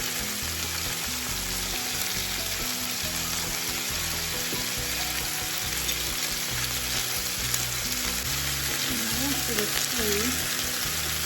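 Food sizzles and fries steadily in a hot pan, salted and peppered, with a dense constant crackle and occasional stirring or scraping, close and continuous throughout.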